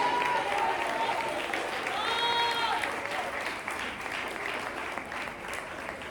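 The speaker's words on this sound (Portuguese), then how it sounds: "glorifica com as fortes palmas para Jesus" Church congregation clapping strongly in praise of Jesus, a steady wash of applause at moderate level with a few voices and tones rising briefly over it.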